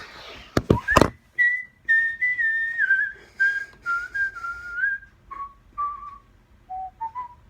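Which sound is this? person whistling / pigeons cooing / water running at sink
person whistling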